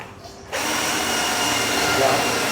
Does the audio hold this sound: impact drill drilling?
yes